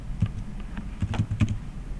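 Keys tapped on a computer keyboard while entering a web address, a short burst of light clicks in quick irregular succession, close and fairly faint with no voices.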